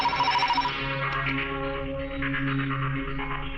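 A telephone rings in a tense scene, a bright electronic ringtone repeating in quick bursts, moderately loud and alone with no talking.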